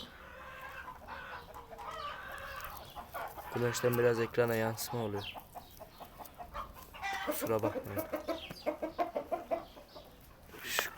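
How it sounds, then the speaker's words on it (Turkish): Chickens cluck and call in a yard, with louder drawn-out vocal bursts in the middle, while someone talks over them. "Tavuklar da var zaten"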